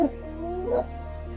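African wild dogs yip and whimper at a kill on the savannah, a short burst of high, wavering cries up close with a steady low background hum.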